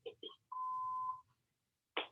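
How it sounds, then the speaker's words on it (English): A single steady electronic beep, clear and moderately loud, holds for under a second as an answering-machine style tone, with brief voice-like sounds just before it and a short burst of noise after. "Please leave us a message after the beep."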